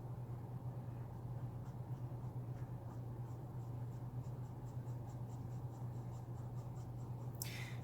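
Blick Studio brush markers stroke across paper in steady, repeated short scratches, quiet and close, over a constant low electrical hum.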